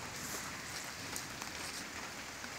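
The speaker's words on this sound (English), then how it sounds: "it's starting to rain again" Steady rain falling in a garden homestead, a dense, even hiss of drops on leaves and surfaces throughout, close and constant with no voices.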